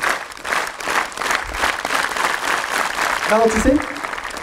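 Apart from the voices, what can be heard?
audience clapping in rhythm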